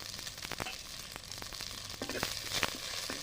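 Peeled garlic cloves frying in oil in a pan, a steady crackling sizzle with occasional sharper pops and faint stirring, heard close and alone.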